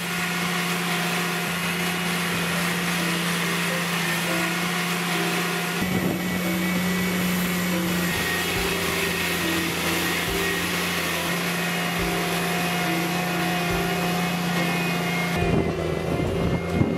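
A drainage plow farm machine works with a steady, loud engine drone and a constant mechanical hum, with rattling and shifting tones throughout and no voices.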